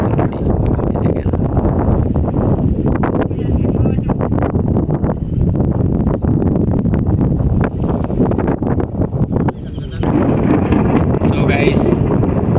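Strong wind sweeps a riverbank beside a cremation ground as a storm with rain and lightning approaches, a loud, constant roaring buffet that barely lets up for the whole stretch, dipping briefly near the end.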